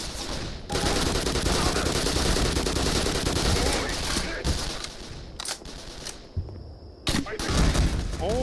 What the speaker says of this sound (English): Oh, this shit comes with a grenade launcher?